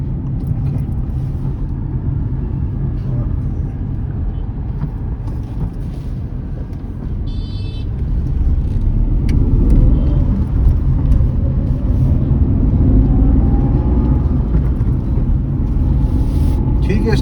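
A small Renault car accelerating on the road, its engine and road rumble building steadily from inside the cabin, with a rising engine tone under continuous talking.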